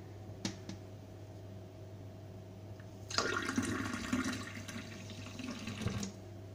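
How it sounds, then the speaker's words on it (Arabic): Water poured into a container of milk for pizza dough, a steady gurgling pour starting partway in and running for about three seconds, close and moderately loud after a quiet lead-in. "زدنا عليه الماء"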